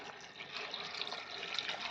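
Water pours steadily into a pressure cooker holding turmeric powder and salt, a continuous soft splashing fill heard close and alone for a couple of seconds.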